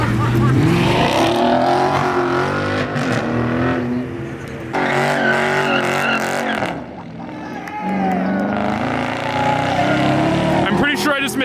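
Car doing a burnout at a street meet with muscle cars and supercars, a loud engine roaring and revving with tire noise, rising and falling in bursts, while people talk and shout nearby.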